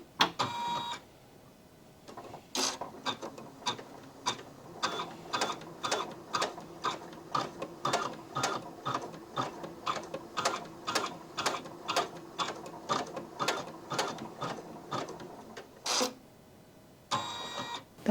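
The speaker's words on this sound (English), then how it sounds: "The machine then proceeds to do the same basting line it did previously." A Janome Skyline S9 embroidery machine stitches a basting line: a steady, rapid train of mechanical needle clicks and whirring, close and moderately loud, with short pauses at the start and end and no talking.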